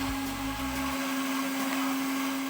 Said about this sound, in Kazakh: Ең бірінші қызанағымызды ет тартқыштан өткізіп аламыз.